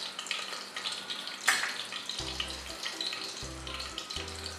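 Cardamom and bay leaf hit hot oil in a pan with a steady hissing sizzle at close range. A sharper crackle spikes briefly, and a low intermittent hum sounds in the background.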